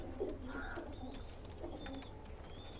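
Tube light breed pigeons coo softly in short, low murmurs over a faint background hum, with no speech.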